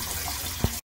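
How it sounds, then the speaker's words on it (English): A faucet in a boat's forward cuddy running to drain the freshwater tank, a steady close hiss of flowing water with one brief thump before it cuts off. "use this faucet in the forward cuddy. Turn it on and let it run till it's empty."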